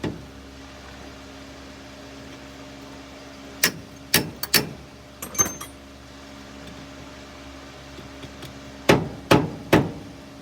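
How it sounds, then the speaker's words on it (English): Several sharp, loud metallic hammer blows strike a stuck EGR part on a Toyota 20R engine, with a cluster of quick hits, a pause, then three more spaced strikes over a steady low background hum. "Guess I'll have to get a bigger hammer."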